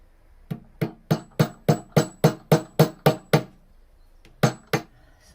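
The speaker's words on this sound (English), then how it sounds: "I need to glue and nail this little piece in here" A nail is hammered into a small, freshly sanded wooden harp piece: eleven sharp, evenly spaced metallic strikes close by, a pause, then two final taps, with no talking.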